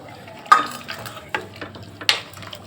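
Chickpeas poured into a hot pressure cooker for chapati kurma hiss and sizzle, with a few sharp clattering splashes as they land and a soft frying crackle between them.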